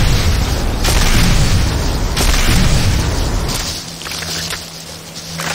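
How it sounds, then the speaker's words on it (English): A GDI infantry barracks in the Renegade C&C video game blows up in one sustained, loud, rumbling explosion with a deep low-end roar that holds for several seconds before tapering off. "GDI infantry barracks destroyed"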